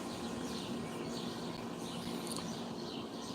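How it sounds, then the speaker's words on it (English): Birds singing outdoors, faint scattered chirps and tweets heard over a steady broadband hum like a nearby air conditioner, with no voices. "And we can still hear the birds."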